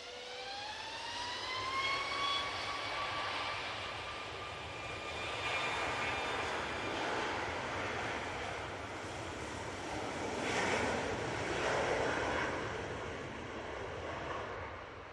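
A Ryanair jet airliner at Manchester Airport begins its takeoff roll, engines spooling up with rising whining tones into a sustained distant roar that swells and fades in broad waves.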